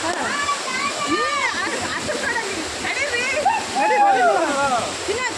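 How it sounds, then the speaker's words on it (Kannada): Ukkada waterfall in Muttodi forest, a steady close rush of falling and splashing water that fills the whole clip, with voices of hikers talking over it. "Kuda Falls finally reached."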